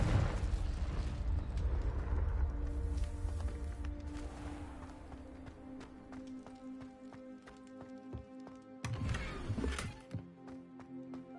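A Confringo blasting spell goes off in Hogwarts Legacy, a loud burst with rumbling low end at the start, then a second sharp blast later amid clattering game effects and a steady musical tone.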